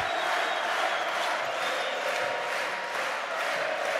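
Basketball crowd at a Balkan versus Levski Lukoil game roaring steadily in support of its team, a dense sustained wall of cheering and voices with no breaks.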